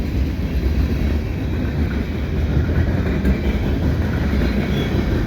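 A snowy CN freight train with an AC44C6M distributed power unit rolls past at Dorval in winter, a loud continuous rumble with rail noise and a steady wash of wheel roar throughout.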